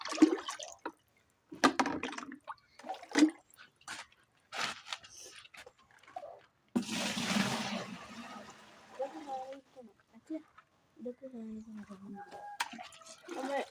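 Water is scooped from a muddy stream, with splashing and dripping bursts in between quiet gaps and a longer rush of pouring water in the middle, while people talk nearby.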